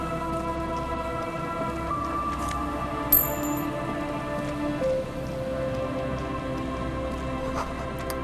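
Steady rain ambience in the video game Disco Elysium falls on surfaces near a makeshift boardwalk shelter, a constant dense patter with a faint dull thump partway through and no talking.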